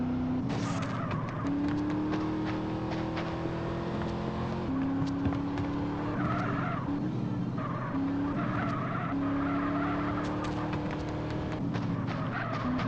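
A racing car in GTA San Andreas revs and skids repeatedly, engine tone climbing and dropping between gear changes while tires squeal in short bursts, loud and close with no talking.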